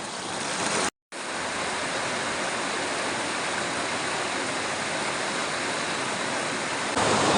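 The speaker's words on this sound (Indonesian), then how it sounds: "Ini di pinggirnya sungai di sini." River water rushes steadily beside a riverside hut at night, a dense continuous roar with a brief dropout near the start and no voices.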